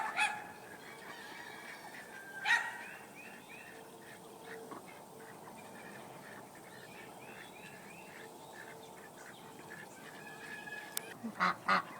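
Ducks in a coop make faint, scattered quacks and honks over steady outdoor background noise, growing a little busier toward the end.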